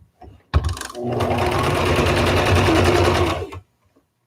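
A Brother XR3774 sewing machine runs in one steady, loud burst of about three seconds, with a dense mechanical whir between short quiet pauses at the start and end.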